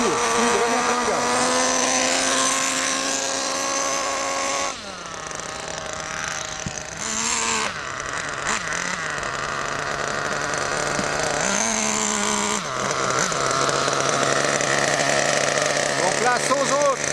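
Small nitro model engine on factory tuning screaming at full throttle, a high steady whine that dips and recovers in pitch as the revs sag and climb, heard close with someone talking over it.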